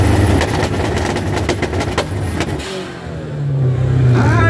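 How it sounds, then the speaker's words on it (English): A tuned import car engine revs hard at an outdoor drag race two-step battle, with rapid pops and a loud stuttering crackle that breaks into a rising, sustained roar. "Rev it up. Rev it up."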